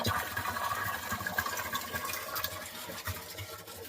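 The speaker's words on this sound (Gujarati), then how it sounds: "કુંડો ભરાય છે" Water pours into a village trough for cows and buffaloes on a rainy day, a dense continuous rushing splash heard close and fairly loud throughout.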